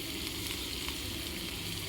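Chopped onions and green chilli fry in oil in a wok with mustard seeds and chana dal, giving a steady, close, dense sizzle with no talking.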